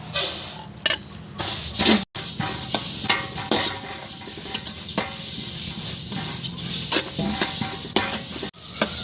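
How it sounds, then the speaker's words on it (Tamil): Black sesame seeds dry-roast in a pan for homemade masala powder, giving a steady close sizzle and crackle dotted with sharp little pops and the scrape of stirring throughout. "அடுத்து கருப்பு எள்ளு போட போகிறோம்."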